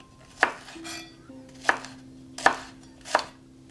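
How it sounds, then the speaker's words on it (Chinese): A knife slices green chili on a cutting board in four separate sharp chops spaced about a second apart, close and crisp, with quiet pauses between. "绿辣椒切片"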